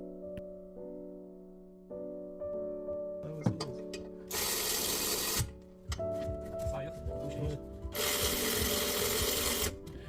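Bolts on a car's brake caliper assembly are tightened during a brake and rotor change, with ratcheting clicks and bursts of mechanical whirring from a tool, close and fairly loud.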